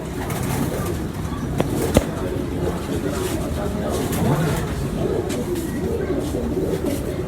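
Pigeons coo softly in a Lahore loft setting, low murmuring calls blended into a busy wash of background noise, with one or two sharp clicks standing out.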